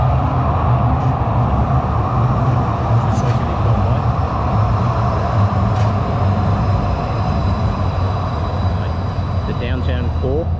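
A Calgary Transit train on 7th Ave in downtown Calgary on Canada Day gives a steady, loud rumble that runs unbroken throughout, with people talking over it.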